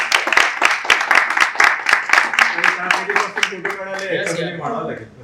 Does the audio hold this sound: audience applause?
yes